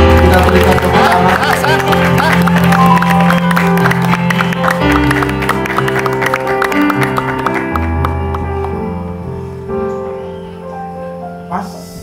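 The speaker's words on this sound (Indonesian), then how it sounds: "Kita berikan tepuk tangan." A crowd claps and applauds loudly, with voices and music in the background, the applause thinning out toward the end, at a church wedding blessing.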